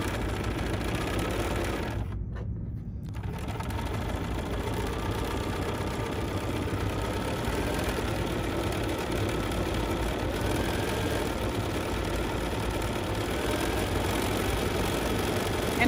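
A BERNINA sewing machine stitches couching onto sample fabric with a continuous, even, close-up mechanical hum that carries on for the whole stretch, with only a brief dip early on.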